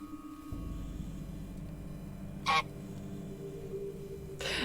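A short cartoon goose honk from Untitled Goose Game plays once as a sound command, then a second brief honk at the end, both over a steady low game-music hum.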